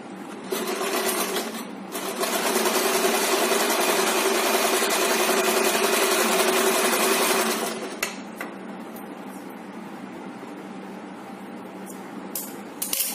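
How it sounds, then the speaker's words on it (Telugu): A sewing machine double-stitches a chudidar gathering pant, running loud and steady for several seconds, then continuing at a quieter, lighter hum with a few small clicks and no talk. "నేను డబుల్ స్టిచ్ చేస్తున్నాను."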